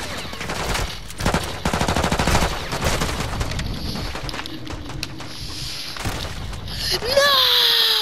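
Rapid gunfire in a video game, a dense run of fast repeated shots in the first few seconds under background voices, then scattered bangs and a rising electronic tone near the end.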